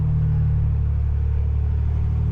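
A Polaris RZR Turbo R engine crawling up the Chute gives a deep, steady low rumble, loud and close, with no talking.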